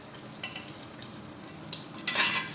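Chicken frying in a pan while being cooked for a restaurant-style biryani, with a soft steady sizzle and a few stirring scrapes, swelling into a louder hiss near the end.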